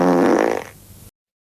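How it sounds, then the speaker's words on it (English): A standard everyday fart, a loud, wet, rasping burst that sputters and fades within about a second, followed by a brief quiet tail, heard alone. "Standard daily farting."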